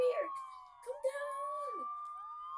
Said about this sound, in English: I think you hear 20 police cars coming, dude.